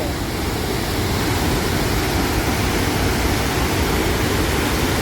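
The Bhedaghat waterfall roars close by as a loud, dense, unbroken rush of falling water, with dripping from trees lost in the roar and no voices heard.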